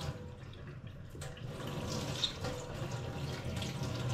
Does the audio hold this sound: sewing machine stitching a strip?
no